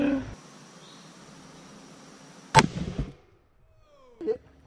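A single loud gunshot from a handheld gun bursts out of steady background hiss, with a sharp crack followed by a short rumbling decay and a faint later thump.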